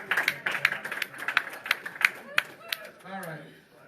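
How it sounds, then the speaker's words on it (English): Several sharp hand claps ring out in a meeting room, scattered and uneven, mixed with murmuring voices and light crowd noise before talk takes over near the end. "Yeah, that's a clap."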